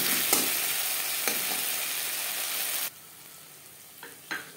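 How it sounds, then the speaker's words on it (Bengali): Spices sizzle in oil in a pan for a matar ghugni, a steady hiss with occasional spoon scrapes from stirring that cuts off abruptly, leaving quiet with a couple of light clinks. "মশলার কাঁচা গন্ধ যাওয়া পর্যন্ত নাড়াচাড়া করবেন"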